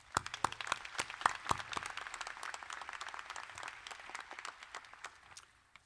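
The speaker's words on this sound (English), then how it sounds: "A round of applause for our president." An audience at a university commencement claps, opening with sharp individual claps and settling into dense, steady applause that fades toward the end, moderately distant and without talk.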